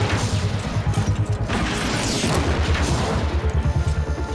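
Rapid repeated weapon fire in Metroid Prime Federation Force, a dense run of loud booming shots pulsing several times a second, with crashing impacts layered over them and no talk.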